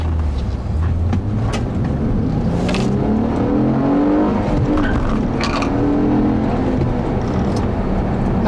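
A 2006 Honda Accord V6 with a 6-speed manual drives and accelerates, engine note rising and falling through gear changes with tire and road noise, steady and close from inside the car.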